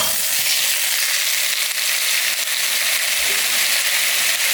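Quail eggs and carrots stir-fry in a pan with a sweet syrup seasoning, giving a steady, loud, continuous sizzle throughout, with no talking.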